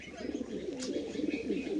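Female pigeon held in the hand giving soft, low, warbling coos, faint and close, in a short continuous burst with slight handling rustle.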